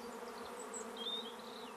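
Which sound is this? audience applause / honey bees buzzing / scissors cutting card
honey bees buzzing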